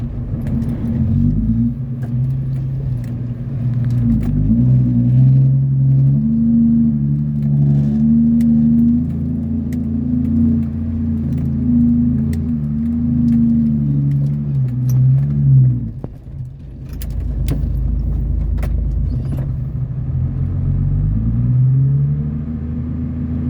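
A vehicle stuck in sand and dirt revs its engine loudly and up close, holding strained, droning revs that rise and fall, dropping off briefly before surging again.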